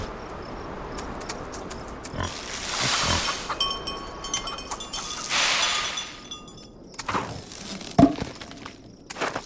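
Pigs on a farm in the video game Farm Together, with scattered grunts and oinks mixed with clinking, rustling bursts and other busy game sounds throughout.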